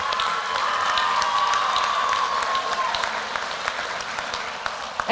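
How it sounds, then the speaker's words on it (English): Sustained applause from an audience at a tourism excellence awards ceremony in Fiji, greeting the three Rising Star finalists; dense, steady clapping fills the whole stretch with a faint tone beneath it. "Big round of applause for our three finalists"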